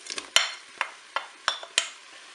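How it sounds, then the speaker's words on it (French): Carrots dropped into the pot of a Cookeo cooker while browning, several sharp clattering hits and scrapes over a faint sizzle, close and short. "Je vais maintenant ajouter les carottes"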